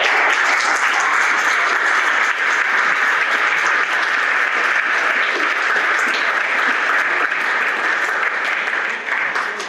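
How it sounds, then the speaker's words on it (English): Loud, sustained applause fills a wedding reception. Many hands clap densely and evenly for the whole stretch, with no break. "let's keep that applause going"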